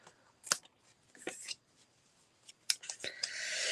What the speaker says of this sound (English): I'm going to cut this one off.